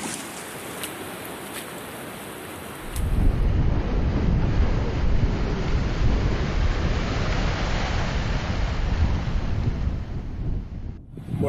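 Sea waves crash against coastal rocks in gusting wind, sending salt water over a path. A low rumble of surf and wind buffeting the microphone swells in after a quieter start and roars on continuously.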